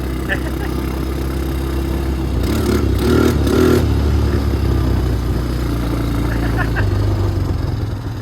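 A 1997 Honda Recon 250 ATV, revived after sitting outside for 15 years and running on a partly flat rear tire, drones steadily while ridden in third gear, with a close, continuous engine hum, brief rising revs and light clatter under some talk.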